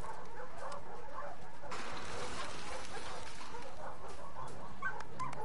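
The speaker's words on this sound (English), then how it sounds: "Hey, you crazy dog." A dog whimpers and gives soft yips in The Last of Us Part II video game, quiet and close over faint ambient background, with no speech.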